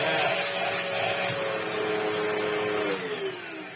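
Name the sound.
Zanussi Multi-Cyclone Air Speed 2 vacuum cleaner running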